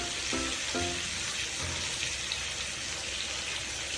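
Pork sizzling in a pan with bamboo shoot, tomato and turmeric, a dense, steady frying hiss that holds evenly throughout, with faint scraping underneath.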